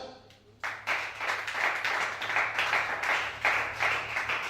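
A church congregation claps and acclaims during worship, a dense steady wash of applause with surging peaks that starts abruptly and holds at a fairly loud level throughout.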